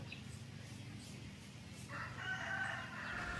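A rooster crows in the second half over a steady low rumble, with some faint clucking from nearby fowl.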